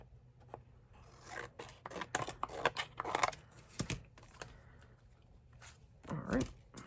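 Snipping and crisp cutting strokes as scissors trim the top edge of a homemade paper folder, a run of close rustling cuts with quiet gaps and a louder crunch near the end.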